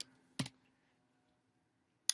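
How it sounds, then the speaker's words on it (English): A couple of sharp, isolated computer keyboard key clicks during a library catalogue search, close and quiet, separated by a long silent gap. "I could begin by typing in George Bernard Shaw"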